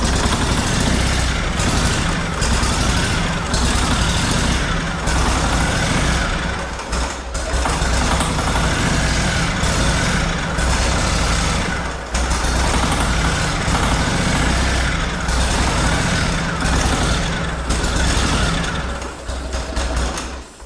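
Cub Cadet 1440 lawn tractor engine running briefly on ether, a loud, close, rough rattling roar with uneven dips and stumbles throughout.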